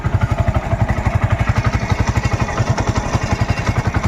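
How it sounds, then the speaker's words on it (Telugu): A 2017 TVS Sport motorcycle engine idles steadily nearby, a fast, even chugging thump with no other sounds. "బాగా వినండి ఇంజన్ రన్నింగ్లోనే ఉంది"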